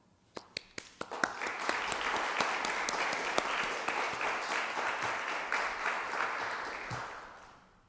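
An audience at a Holy Names University scholarship luncheon breaks into applause, starting with a few distinct claps that swell into steady clapping before fading out.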